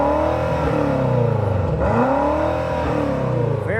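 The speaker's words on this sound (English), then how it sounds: "Oh, Trish, can you do another rev time, please?" A 2026 BMW X6M revs its engine hard, the exhaust rising and falling through repeated sweeping blips, loud and close with a steady roar and no voices.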